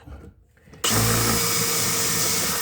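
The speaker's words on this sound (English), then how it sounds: "they say to use a 1/8 inch drill bit" A power drill with a 1/8 inch bit bores into a wood floor, starting abruptly after a short quiet moment and then whirring loud and steady up close.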